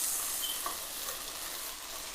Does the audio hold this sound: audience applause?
no